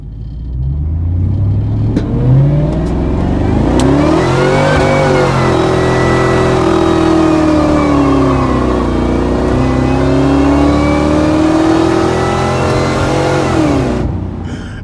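A loud Ford Lightning pickup truck engine roars and revs hard during a tire burnout, holding a strained high-rev growl for many seconds with a rough rumbling edge before cutting off abruptly.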